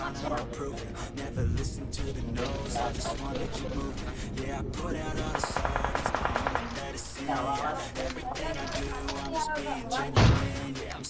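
M249 machine gun firing in a mobile battle royale game in rush mode, rapid bursts of automatic fire layered over game sounds and effects, with someone talking over the action.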